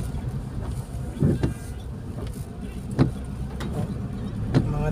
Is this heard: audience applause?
no